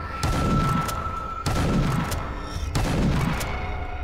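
Shotgun blasts in a first-person game built with Game Guru boom out three times at roughly even intervals, each a loud burst over a dense, steady bed of in-game noise.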